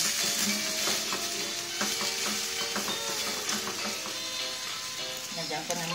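String beans sizzle and fry in a hot pan for adobo while a utensil stirs and scrapes steadily, the frying hiss constant throughout with someone talking over it.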